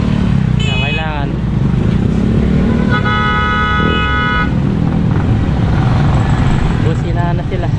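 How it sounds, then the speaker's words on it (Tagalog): Car horns honk in dense, stacked-up street traffic, steady horn tones standing out over a constant engine rumble while people talk nearby. "busina na sila."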